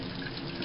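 Water poured into a cooking pot or pan gives a steady, close splashing trickle that runs without a break for a moment.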